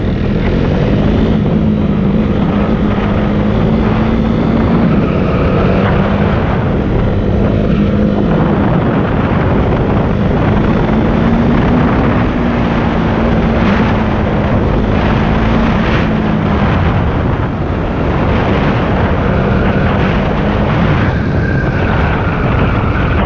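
Motorcycle engine under poor throttle control while downshifting through the gears, a loud, close, wind-buffeted drone whose pitch rises and falls repeatedly as the throttle is rolled on and off.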